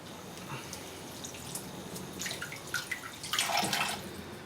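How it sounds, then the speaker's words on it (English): Water runs and splashes over a Japanese sharpening stone during a rinse before the final polish, a soft low wash that swells into louder splashing toward the end, alone with no talk. "I'm just going to rinse the stone off."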